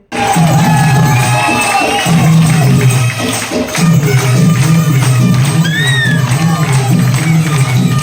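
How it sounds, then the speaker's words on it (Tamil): An outdoor audience in a Doha garden in Qatar claps and cheers for an uncle's dance performance, a dense, loud, sustained roar of applause with whoops rising out of the crowd while voices mix in. "அங்கிளோட டான்ஸ் பர்ஃபாமன்ஸ்க்கு எல்லாருமே எழுந்து நின்று கைத்தட்ட ஆரம்பிச்சிட்டாங்க"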